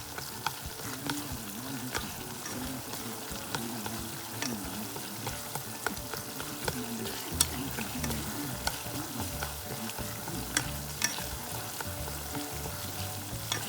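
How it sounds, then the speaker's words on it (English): Purple onions stirred in a pot for ramen noodle soup, sizzling and frying steadily with repeated scraping stirs throughout, close and continuous with no talking. "the reason why I'm stirring a lot is because I want to make sure that my purple onions separate"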